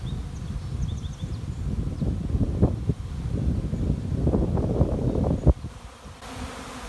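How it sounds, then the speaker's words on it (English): A honeybee swarm flies low to the ground outdoors, a steady close buzzing drone mixed with gusty wind rumble buffeting the microphone throughout. "Swarms trying to stay low to the ground because of all the wind."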